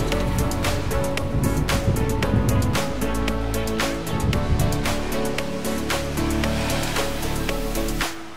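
Ocean waves roll onto a Miami beach in a steady, loud wash of surf, with swells cresting repeatedly beneath tonal background music and no voices.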